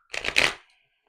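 A deck of tarot cards being shuffled, one short riffling burst of close, papery flutter lasting about half a second before silence.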